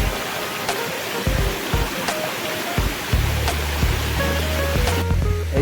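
Mankadadin waterfall at a picnic spot roars with a constant loud rush of falling water, close and steady, with a low rumble and faint scattered knocks underneath.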